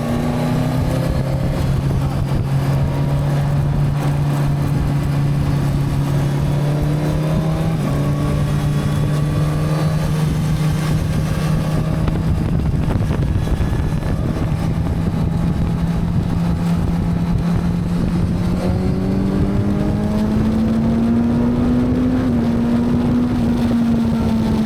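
A motorcycle on Michelin Pilot Road 6 tyres rides steadily, its engine droning in a sustained hum that shifts gear around the middle and climbs gently in pitch near the end, with constant road and wind rush.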